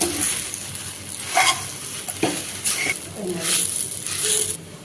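Sago and Bombay rava are stirred and fried in a pan for sabudana laddu, giving a soft steady sizzle with scraping stirs and clinks while someone speaks over it.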